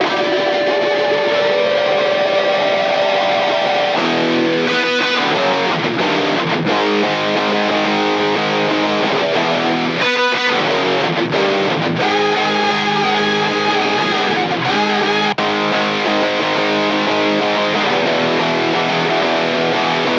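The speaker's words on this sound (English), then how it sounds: "all together the guitars sound like this" Loud, heavily distorted electric guitars chug through a steady rhythm part, layered and continuous, with no voices.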